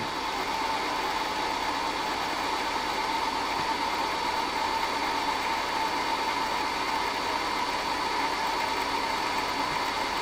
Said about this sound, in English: Then you can just hold the presser foot until the bobbin is fully wound on.